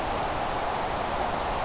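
Steady flat pink noise test signal, a continuous broadband hiss with even loudness and no variation, heard alone without any talk.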